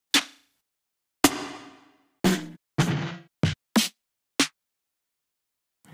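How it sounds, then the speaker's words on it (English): Snare drum samples are previewed one after another in BandLab, sharp isolated cracks and thwacks with short decays, roughly seven hits spaced irregularly with silence between them and no voices. "Now you can look for something else, a snare drum this time."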